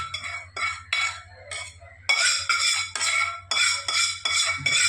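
A spiced methi mixture is worked into maida and wheat flour for methi puri dough, giving a run of brisk, close scraping and clinking strokes in uneven bursts over a low steady hum.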